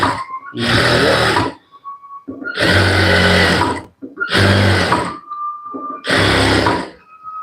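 Sewing machine stitching an Aari-work blouse, running in four loud bursts of rapid mechanical chatter separated by short pauses, close and with no voices over it.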